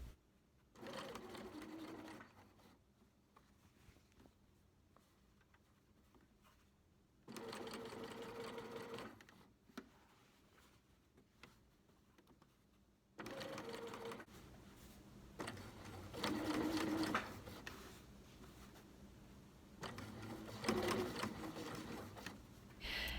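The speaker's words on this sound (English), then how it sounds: "I kept on sewing and was able to sew it down without any puckers." A sewing machine stitches fabric appliqué onto a pillow cover in several loud bursts of running, separated by short quiet pauses.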